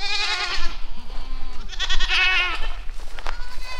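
Several goats bleat nearby in a quick run of wavering, nasal calls that overlap and trail off over a few seconds.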